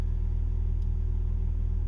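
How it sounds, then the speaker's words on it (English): A car engine rumbles steadily at low pitch, heard from inside while creeping along in slow traffic, a constant close drone with no voices. "now I get to sit in traffic for a long ride home"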